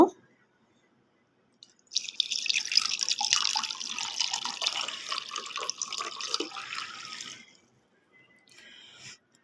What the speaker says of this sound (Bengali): এখন পানি ঢেলে দিব